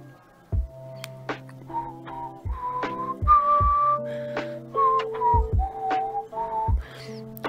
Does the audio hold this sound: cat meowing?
no